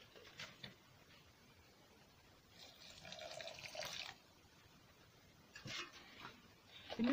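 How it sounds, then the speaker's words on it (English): Warm water running from a tap for village cooking, faint quiet splashing in three short bursts separated by near silence. "I'm using warm water here."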